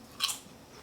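A single short, crisp crunch of biting into a puffed rice cracker topped with tuna poke, close and brief against a quiet background.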